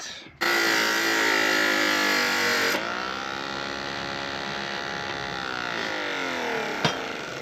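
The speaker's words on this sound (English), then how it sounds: "let's try and sand off this rivet" A power sander grinds against a rivet on an old bill hook, a loud, close, high whine that drops in pitch as it bites into the metal, then keeps droning steadily with a brief click near the end.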